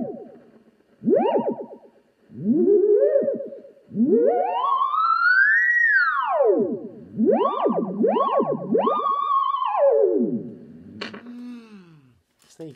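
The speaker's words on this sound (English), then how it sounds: "The theremin makes sounds without touching it." A theremin played by moving a hand near it, with no touching, sends loud gliding electronic tones sweeping up and down in long swoops and quick wavering loops, played close and alone.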